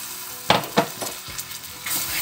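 Hot cream poured into freshly formed caramel on the stove sizzles and spits in a few sharp bursts, then settles into a steady bubbling hiss, close and fairly loud with no talking.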